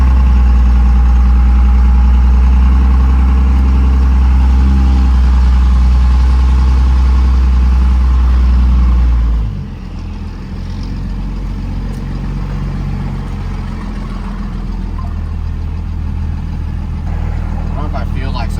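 A second-generation truck engine idling as it warms up, a loud, steady low rumble that drops to a quieter, even running note about halfway through.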